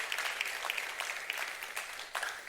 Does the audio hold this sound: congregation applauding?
yes